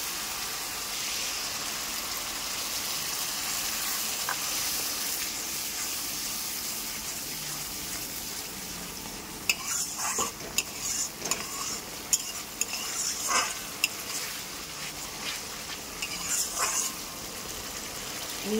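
Tomato puree fries in oil in a pan while being stirred for a chana masala, a continuous close sizzle broken by scraping stir strokes and spatters in the second half.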